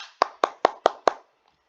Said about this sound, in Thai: ปรบมือให้ดังๆเลยครับ